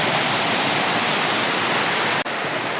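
Hidden Falls, a waterfall, gives a loud, steady, close-up roar of rushing water, continuous throughout apart from one brief dip near the end.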